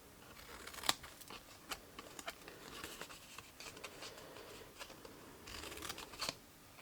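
Scissors snip through paper while a watercolour gift box is cut out, giving a steady run of crisp, close cuts and small rustles with short pauses between them.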